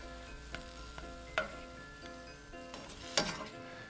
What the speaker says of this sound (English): notice how I'm just breaking apart the beef so that it's not all one big clump